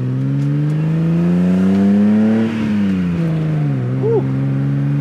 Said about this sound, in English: Gonna just be taking a short drive